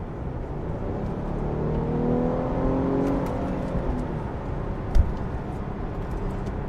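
A Chevrolet Blazer RS with a naturally aspirated V6 and 9-speed automatic accelerates hard, its engine drone rising steadily in pitch from inside the cabin, with a single thump near the end.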